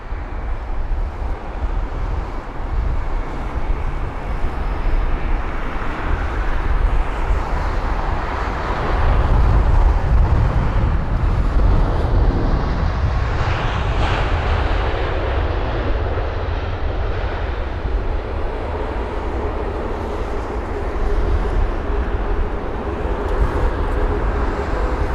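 A seven-year-old Boeing 787-9 Dreamliner, registration G-ZBKG, landing at London Heathrow: a loud, continuous jet engine roar that swells slightly midway and holds steady throughout, with no speech.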